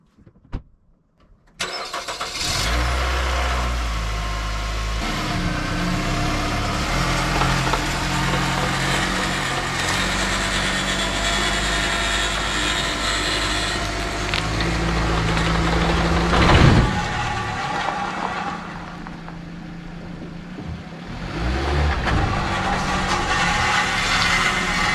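A Nissan Rogue with a faulty transmission starts and is driven, its engine and drivetrain producing a steady loud mechanical drone with a whining hum that rises and shifts over about twenty seconds, close by and uninterrupted.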